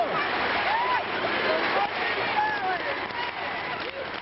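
Spectators at the 2003 World Gymnastics Championships team final cheer and chant loudly in the arena, a broad sustained crowd roar with rising and falling shouts running under a commentator's voice.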